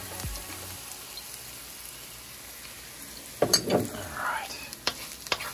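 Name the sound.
garlic frying in extra virgin olive oil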